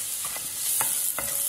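Chopped onion softens over low heat in butter in a pan for an asparagus risotto, giving a gentle steady sizzle broken by a few soft stirring scrapes, close by and without any talking.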